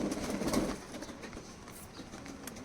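Soft, low coos from Madras and Malwai pigeons in a pigeon loft repeat close by, a couple of throaty calls with a brief rustle at the start.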